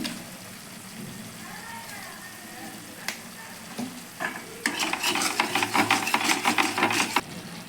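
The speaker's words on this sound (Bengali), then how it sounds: "ভালো করে মশলাটা কষিয়ে নেবো এর মধ্যে একটু হলুদ আর একটু নুন দিয়ে দেবো" Spice masala for a vegetarian potato curry is sautéed in a pan with turmeric and salt, starting as a low sizzle, then breaking into rapid, loud clattering stirring strokes near the end, with no talking.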